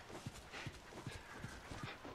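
Horse hooves clip-clop in The Last of Us, a steady, evenly spaced beat of soft low thuds, faint and set under a hissy ambient background.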